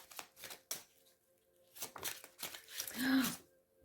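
Tarot cards are shuffled by hand in several short riffling bursts, close and fairly quiet, with someone speaking softly between them.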